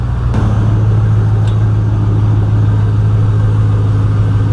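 Right after intake work and a throttle body cleaning, a car engine starts and settles into a steady idle. The rumble is close, loud and unbroken throughout.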